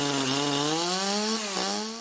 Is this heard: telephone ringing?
no